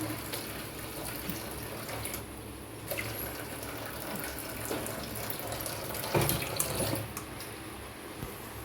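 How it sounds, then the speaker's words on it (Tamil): Tap water runs in a steady, continuous stream, filling a vessel with a constant splashing rush and a few clinks while cooking gravy. "கொஞ்சம் தண்ணி கலக்கிறேன்"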